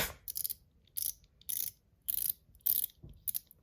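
An ACEdc Ratchet Ring fidget fitted with three springs and balls clicks in short, crisp ratcheting bursts, about seven quick runs of rapid clicks, close and fairly quiet.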